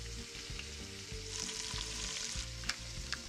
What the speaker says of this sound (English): I'll add a little bit more oil to my pot and then toss in my onions and my carrots